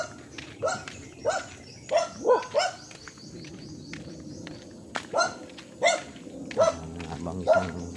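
A dog barks repeatedly in a remote rural area, a series of sharp separate barks at irregular intervals, moderately near, with soft background noise.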